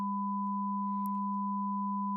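Two synthesizer sine oscillators, one at 1000 Hz and one at 200 Hz, are summed by additive synthesis into a steady, clean, unchanging tone that holds alone at constant loudness, with a faint click near the middle.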